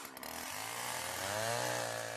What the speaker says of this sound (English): chainsaw will be the quickest way of cutting through to an answer